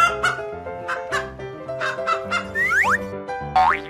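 Animated chicken clucks come in a rapid run of tonal, bouncy calls with springy boing-like sweeps near the end, loud and close.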